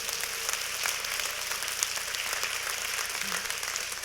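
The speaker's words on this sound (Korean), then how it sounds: "박수 한번 주시죠." Audience applause at a Korean talk event, steady dense clapping from a crowd, moderately loud and even throughout the short span with no voices over it.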